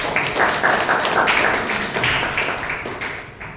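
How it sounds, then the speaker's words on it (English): A round of applause at a Toastmasters meeting, a small group clapping steadily and close by, the claps thinning toward the end. "So can we have a round of applause for"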